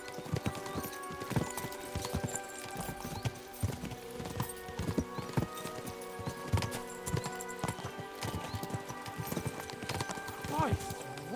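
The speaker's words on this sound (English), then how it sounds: "We should spur the horses on." Horses gallop in the medieval video game Kingdom Come: Deliverance II, a steady rapid clatter of hooves with an occasional whinny, heard under ongoing speech.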